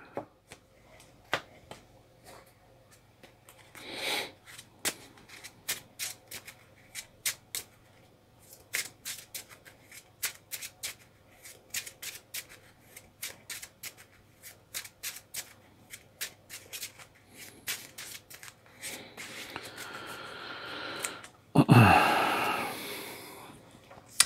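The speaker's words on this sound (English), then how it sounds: "To shuffle an aggression card back" Cards for the Marvel Champions card game are handled with a long series of short, crisp riffling snaps and flicks, ending in a louder burst of shuffling, with little talk.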